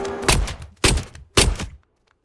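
Three loud gunshots ring out in the zombie survival game Into The Dead: Our Darkest Days, evenly spaced about half a second apart, each with a short decaying tail before silence.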